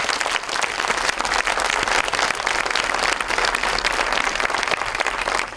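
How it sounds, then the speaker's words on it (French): Steady, dense applause from an audience at a school theatre performance, loud and continuous with no break throughout. "d'ailleurs on peut l'applaudir pour son déplacement"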